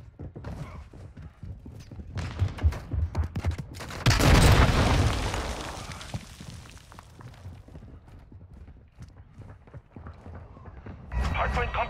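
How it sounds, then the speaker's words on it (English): A friendly mortar strike lands in Call of Duty: Modern Warfare II on a farm map, with a heavy roaring blast that swells and slowly fades, set among scattered gunfire and footsteps while voices call out. "Friendly mortar strike"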